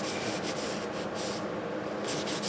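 Steady scrubbing of a ground-down engine part from an antique Briggs engine with a rag soaked in lacquer thinner, a continuous close rubbing hiss with small rhythmic swells and no talk.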